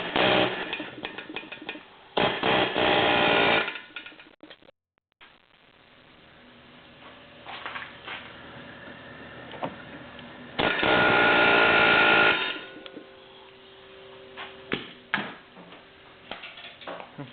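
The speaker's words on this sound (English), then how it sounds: "I'm going to take my air hammer with a pointed bit here, and I'm going to put it right in that divot on that axle and drive that axle back" A pneumatic air hammer with a pointed bit drives back the front axle shaft of a 2012 Jeep Liberty during a hub bearing job, rattling in several loud sustained bursts separated by quieter clinks and tool handling.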